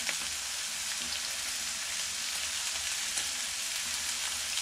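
Heavily salted and peppered 30-day dry-aged beef steak sizzling in a hot pan, a steady, dense hiss that carries on unbroken and close.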